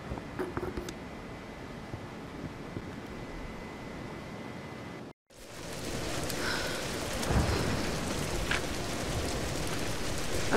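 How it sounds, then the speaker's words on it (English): Stormy weather in the video game Tomb Raider (2013): steady heavy rain hiss with rumbling thunder, a brief dropout midway, then louder, denser rain and a thunder swell continuing to the end. "We're getting closer to the storm."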